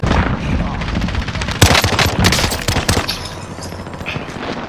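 Automatic gunfire in Call of Duty Modern Warfare 2019 Warzone, loud and close: rapid continuous bursts with sharp cracks and a denser volley in the middle.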